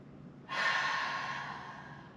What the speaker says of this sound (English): Big inhale. And exhale.